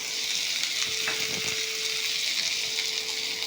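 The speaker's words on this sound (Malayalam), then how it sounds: "ഇഞ്ചി, ഇതെല്ലാം ഒന്ന് നന്നായി നല്ല വെളിച്ചെണ്ണയിൽ വഴറ്റിയെടുക്കണം" Slit green chillies, garlic and ginger sautéing in coconut oil: a steady, bright sizzle throughout, with a faint scrape or two of stirring near the middle.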